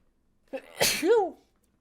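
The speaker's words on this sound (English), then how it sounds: "I'm going to sneeze again" A single close, loud sneeze from a person on a podcast about Magic: The Gathering Lord of the Rings cards: a sharp intake, then a burst with a voiced, falling tail.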